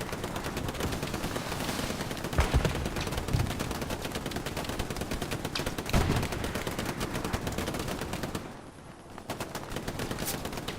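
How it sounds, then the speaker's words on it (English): Dense gunfire from the Hell Let Loose video game, a 49-versus-49 competitive match at the Battle of Foy, with continuous overlapping rifle and machine-gun shots and a few louder nearby bursts, sustained throughout with a brief lull near the end. "Shots going all around."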